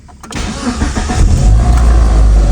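A Mitsubishi Galant engine cranks briefly, catches and settles into a loud, steady idle close by, with no one speaking.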